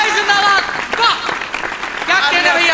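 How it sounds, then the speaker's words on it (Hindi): An audience at a Hindi poetry recital bursts into applause after a verse, the clapping rising and falling beneath a loud voice speaking and chanting over it. "तालियां थोड़ी कम रह गई"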